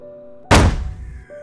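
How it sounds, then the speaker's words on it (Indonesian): A single heavy car door slams shut with a loud, close thunk, followed by a brief rumbling decay, set against a faint low hum. "Ia menutup pintu mobil dengan keras."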